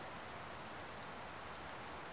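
Rain falls steadily on tarps pulled down over an outdoor bird enclosure, a soft, even hiss of drops that stays faint and unbroken throughout, with no voices.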